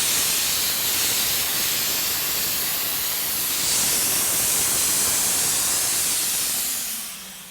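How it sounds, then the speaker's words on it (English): A continuous, loud hiss of a spray gun spraying Plasti Dip onto paper to test its spray pattern, steady for several seconds before tapering off at the end. "Let's check the spray pattern one more time."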